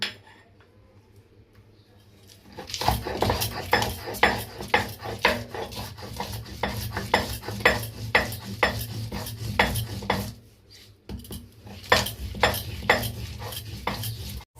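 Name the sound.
grinding lentil paste with ginger and green chillies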